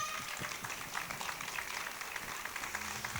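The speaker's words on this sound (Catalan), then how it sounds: "Un aplaudiment per Sofía" Applause from a crowd at a radio show recording, broad steady clapping for about three seconds, with faint voices and a short low tone near the end.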